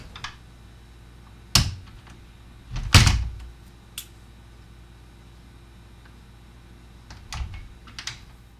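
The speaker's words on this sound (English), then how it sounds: "the sound of another door" An old house kitchen with wood paneling, where a door thuds shut in a couple of sharp, fairly close knocks, with lighter taps and clicks scattered around them in an otherwise quiet room.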